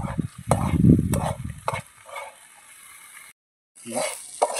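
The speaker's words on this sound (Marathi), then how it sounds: "अजून थोडा वेळ आपण अशीच हलवून घेणार आहोत" A vegetable bhaji with egg, drying out in a pan as it is stirred, gives close scraping and clattering strokes over a low sizzle, with a brief silent gap before the stirring resumes.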